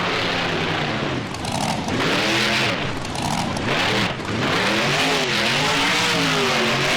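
A monster truck engine in the BeamNG video game revs hard and loud, climbing and falling in repeated sweeping surges close up, dipping briefly between each rise, with no talk.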